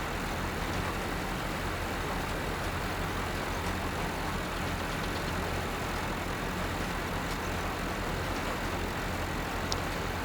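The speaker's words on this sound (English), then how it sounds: "This tractor doesn't turn as nice as that other one" A tractor engine runs in the Farming Simulator video game, a steady, droning hum that holds constant for the whole stretch with no talking over it.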